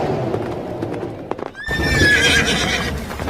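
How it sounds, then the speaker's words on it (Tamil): A horse gallops along fast on a long journey, hooves clip-clopping steadily and close, then a loud whinny rings out over the hoofbeats. "ரொம்ப தூரம் போகணும்ன்றதால குதிரையில வேகமா போய்கிட்டு இருக்கான்"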